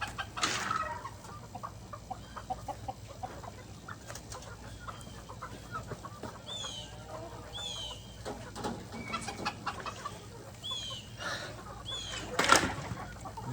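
Backyard chickens cluck in a steady, moderately near chorus, with scattered higher calls and one louder squawk toward the end over faint background hum.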